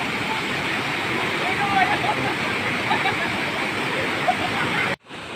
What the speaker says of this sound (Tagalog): Ang Marianum Falls ay isa sa pinakakilalang talon sa lalawigan ng Pangasinan.